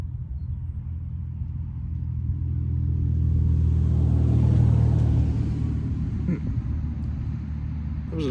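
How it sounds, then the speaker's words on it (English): An old Chevy car drives past on a road outdoors, its low engine rumble swelling as it nears and fading as it moves off. Light background noise continues throughout. "That was an old Chevy."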